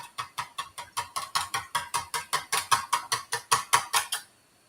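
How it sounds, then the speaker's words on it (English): Eggs and milk whisked together into a custard in a bowl, a brisk, regular train of about twenty clinking whisk strokes against the bowl, close and fairly quiet, stopping abruptly. "you're just going to whisk up your eggs and milk"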